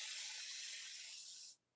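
A single steady aerosol spray hissing onto a craft project for about a second and a half, close and even, then cutting off abruptly into quiet.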